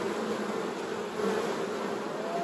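Honeybees buzz in a dense, steady drone over a hive frame full of brood, many insects close by at once without pause.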